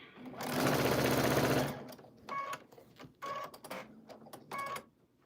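Sewing machine stitching a quilt, one long rapid run of close mechanical clatter followed by three shorter bursts of stitching separated by pauses.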